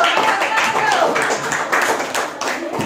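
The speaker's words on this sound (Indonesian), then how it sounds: "tepuk tangan untuk Jo." A middle school classroom claps for a student named Jo, a burst of brisk hand claps from the pupils lasting a few seconds, with voices mixed in.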